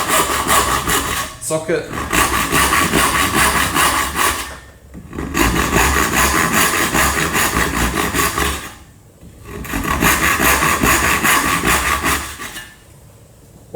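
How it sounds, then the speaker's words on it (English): A tenon saw cuts through wood for a dovetail joint in three long bursts of steady rhythmic rasping strokes, broken by brief pauses between them, loud and close, with a few words spoken. "now it's recommended to make several tenon saw cuts throughout"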